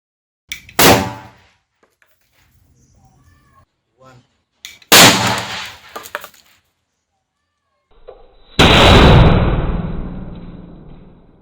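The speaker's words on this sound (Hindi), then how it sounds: "सो इस ऑटो में भी कुछ इस तरह से आगे और पीछे पटाखे लगा दिए है" Diwali firecrackers strapped to the front and back of an auto rickshaw go off in three separate loud blasts, the last a heavy, sustained explosion with a long ringing, crackling tail.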